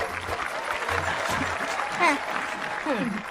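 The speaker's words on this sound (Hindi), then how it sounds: "तालियां बजाओ" Crowd applause at a village gathering with an agriculture officer and veterinary doctor present. Moderate, continuous clapping runs throughout, with voices talking underneath and a few brief higher calls.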